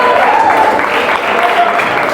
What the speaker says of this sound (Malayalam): ഒരു ബിഗ് ക്ലാപ്പ്